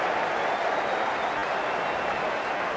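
A stadium crowd applauds in an Australia vs England cricket video game, a dense, continuous wash of clapping and cheering that holds steady and loud for a few seconds.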